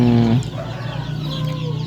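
Free-range village chickens give a loud, close cluck at the start, followed by softer, scattered clucks and chick peeps.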